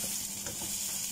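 Chicken feet and peanuts being stirred in a pan for peanut adobo, a brief steady sizzle with soft scraping, close and fairly quiet, no voices.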